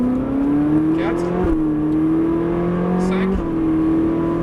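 Ferrari 458 Italia accelerating hard on the Nogaro track, a loud close engine rising in pitch through two gear changes as the tone drops and climbs again.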